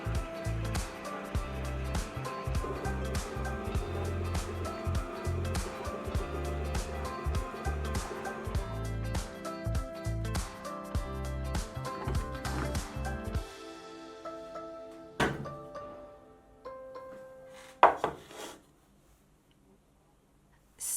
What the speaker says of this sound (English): you should watch this mixer because at some point it becomes kind of one homogeneous blob, and that's when it will shake the machine around